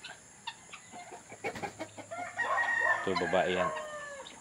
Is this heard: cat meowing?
no